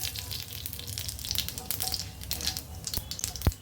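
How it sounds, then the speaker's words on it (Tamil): Mustard seeds, urad dal and cumin sizzle and crackle steadily in hot oil in a kadai, with a few sharper pops near the end and no talking. "எண்ணெய் சூடானதுக்கப்புறம் இதில் கடுகு, உளுந்தம்பருப்பு, ஜீரகம் சேர்த்துக்கிறேன்"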